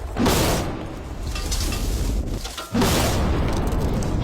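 TNT explosion set off by a button press, two heavy booming blasts with a rumbling roar between them, loud and close.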